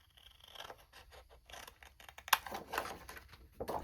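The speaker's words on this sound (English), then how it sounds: "Let's get a pair of scissors out." Quiet, close snipping and scraping of scissors, several short cuts in an uneven rhythm with faint rustling between them.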